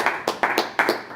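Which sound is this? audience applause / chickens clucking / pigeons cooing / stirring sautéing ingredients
audience applause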